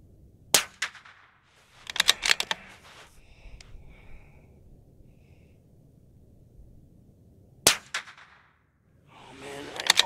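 Rifle shots fired at a target from a cold bore, two or three sharp cracks ringing out in a quiet outdoor setting with long pauses of low background noise between them.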